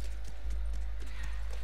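A horse's hooves clip-clop steadily at a walk in The Last of Us video game, a close, even beat over a constant low wind-like rumble.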